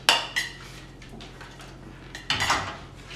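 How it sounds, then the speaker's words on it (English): Carbonara pasta with bacon fat and egg being tossed in a pan, sharp metallic clanks of utensil against pan at the start and again near the end, with softer scraping and stirring in between. "Mix it all together."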